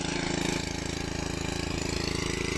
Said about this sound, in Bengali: এখন সোনুই হাল বাইছে পাওয়ার টিলার মেশিনে